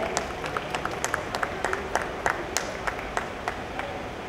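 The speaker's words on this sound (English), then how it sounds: "Can you please have a huge round of applause for them?" A crowd at the Mumbai International Motor Show applauds, a fairly faint, continuous patter of many hands clapping with a few sharper claps standing out, heard from some distance within a noisy hall.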